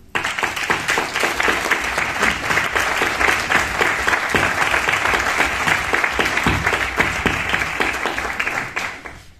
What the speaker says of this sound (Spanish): le mandamos un aplauso y un abrazo muy fuerte para Virginia.